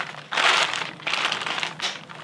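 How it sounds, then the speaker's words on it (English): An LED light globe is pushed into a plastic bag, making close, loud crinkling and rustling in three short bursts with brief pauses between them. "put the globe into the plastic bag"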